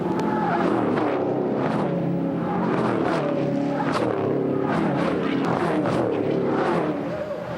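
Heavy V8 ute race cars roar continuously, engines revving and shifting as several vehicles pass in quick succession, loud and close throughout, braking into a corner at Pukekohe raceway, New Zealand.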